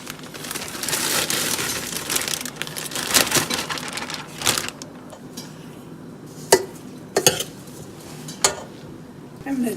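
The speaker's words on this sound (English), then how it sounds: "You just got to make sure you stir them the whole time so they don't stick" Spoon stirring melting marshmallows and butter in a pot, steady scraping and clinking for the first half, then quieter with a few sharp knocks of the utensil against the pot rim.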